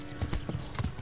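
Hoofbeats of a galloping horse in the medieval game Kingdom Come Deliverance, a quick rhythmic clip-clop of several close, steady thuds.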